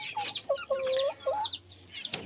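Backyard chickens cluck close by in a few short, quick bursts of clucks and squawks over quiet outdoor background noise.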